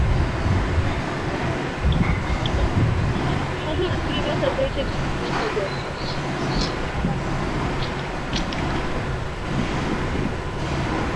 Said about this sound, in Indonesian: Ini sepertinya, angin cukup besar.